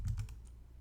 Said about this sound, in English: So what you're going to do is you're going to type in SEO title.